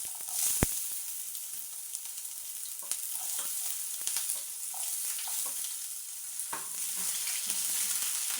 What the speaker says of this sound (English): So our cooking oil is well heated up. Now we are going to add in our red onions.